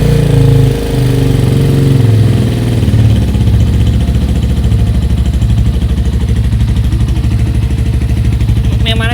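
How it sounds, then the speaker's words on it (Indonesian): A 2004 Honda Tiger 2000 motorcycle with a carbureted engine, choke still in use, idles loudly and close by with a steady, rapid low putter, its note dipping briefly early on before settling into an even rhythm. "Ini suara Tiger standar nih kayak gini nih ya?"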